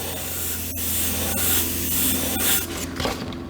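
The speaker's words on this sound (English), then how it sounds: "Get your airbrush nice and close." An airbrush sprays paint close along a shield edge with a steady, close airy hiss, with a low hum underneath and a few faint clicks and shifts in intensity over a few seconds.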